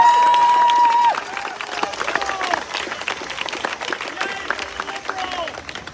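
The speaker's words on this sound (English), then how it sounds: "So let's give her a round of applause." A political rally crowd claps and cheers for an audience member, a dense, steady wash of applause with scattered shouts that begins after a loud sustained tone and carries on to the end.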